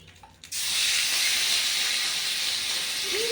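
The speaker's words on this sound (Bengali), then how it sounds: "আর এই তেলের মধ্যে দিয়ে দেবো মশলা মশলা বলতে আদা আর পেঁয়াজ বাটা" Ginger and onion paste hits hot oil with a sudden loud hiss that sets in after a short quiet moment, then holds as a bright, steady sizzle close by.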